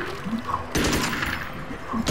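Explosions in the game Magicka, a few sharp crackling blasts with a burst near the middle and another at the end, set against steady low game noise, with no one speaking.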